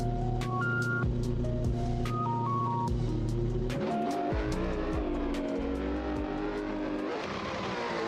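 A BMW E36 drift car fitted with a Mercedes V8 roars loudly and continuously at a qualification run in Jeddah, its engine note rising and falling with heavy revving throughout.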